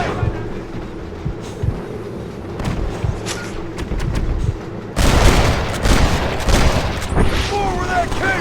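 Gunfire in the video game Red Dead Redemption, with scattered shots that build into a heavier barrage of booming reports partway through, mixed with voices and other game noise.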